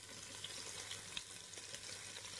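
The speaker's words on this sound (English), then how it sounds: "Just get a wooden spoon. Just break the bacon up there." Smoked back bacon fries in a pan while a wooden spoon breaks it apart, a steady close sizzle with faint scraping and stirring taps throughout.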